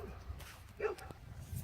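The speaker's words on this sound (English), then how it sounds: "Oh, goody dogs are barking." Dogs bark a few times in the distance, short faint yelps around the middle, heard during work on a Jaguar XJR X308 thermostat replacement in a quiet garage.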